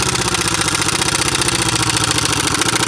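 An air impact wrench hammers on a stubborn brake caliper bolt, giving a loud, dense, continuous rattling buzz up close with no pauses.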